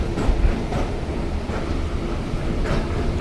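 A local passenger train runs on tracks near New Delhi, its dense, steady rumble and rattle close and continuous with no voices.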